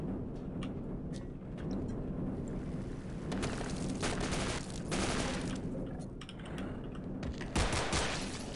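Rapid gunfire rattles in the video game Half-Life in dense, overlapping bursts with heavy booming impacts, loud and sustained throughout.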